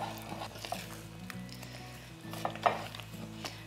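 A spoon scrapes and stirs thick dal with silverbeet and sprouts in a pot, making soft scuffs against the bottom with a faint sizzle underneath. One louder clink of utensil on metal comes near the end, and no one speaks.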